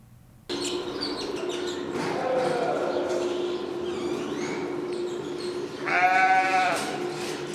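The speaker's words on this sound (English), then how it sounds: "Student journalist Aidan Shepard visited her and her sheep at the KCC Ag Barn" Sheep in an agricultural barn, with a clear, loud bleat near the end and fainter animal calls and chirps over a steady indoor hum.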